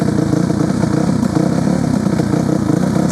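A dirt bike engine fitted with a cheap aftermarket Temu muffler idles steadily up close while warming up, giving a continuous low, even chugging throb that holds level for the whole stretch with no revving and no voices.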